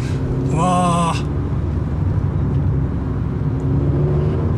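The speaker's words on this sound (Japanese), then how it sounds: "今ね、ちょっと2000回転ぐらいで2速でゆっくり走ってます。" A Honda Fit RS with a six-speed manual cruising slowly in second gear around 2000 rpm, giving a steady low engine drone and road rumble throughout, with a brief voice near the start.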